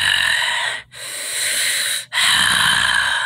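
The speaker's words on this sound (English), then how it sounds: "Who's making a heavy breathing noise?" Loud, close heavy breathing, two long raspy breaths each broken by a brief gap, with no talk over it.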